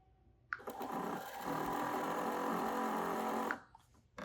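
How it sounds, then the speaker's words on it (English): A Husqvarna Viking Topaz 55 sewing machine winds a bobbin, starting with a click, then running as a steady, high-speed whir for about three seconds before stopping, with a faint click afterward. "click the bobbin winder over"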